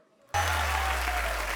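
A studio audience at a comedy show breaks into loud applause after a short quiet moment, and the dense clapping holds steady to the end.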